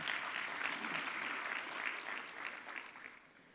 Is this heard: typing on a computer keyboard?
no